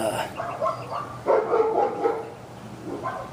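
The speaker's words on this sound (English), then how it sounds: "you get to hear the dogs barking too" Dogs bark in the background while a person talks nearby, several yapping barks and whimpery yips rising in a cluster mid-way, fairly close but partly under the voice.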